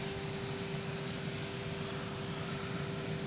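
Air Force One's jet engines roar in a steady, loud, broadband rush with a high whine on arrival at Palm Beach International Airport, with no talk over it.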